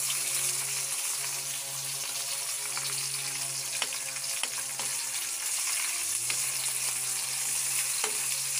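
Oil sizzles steadily as okra fries in a pan, a constant crackling hiss with occasional sharper pops and a low hum underneath.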